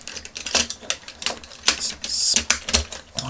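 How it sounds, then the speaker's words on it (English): Plastic pieces of a vintage Battle of the Planets Gatchaspartan toy being handled and clipped into place, a string of sharp close clicks and taps in an uneven rhythm. "and then this clips onto the front there."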